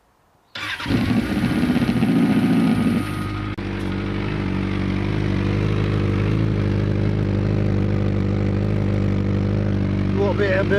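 A Suzuki GSX650F motorcycle engine starts with a loud crank and catch, then settles into a steady, close idle that runs unbroken for about ten seconds, with no talk over it.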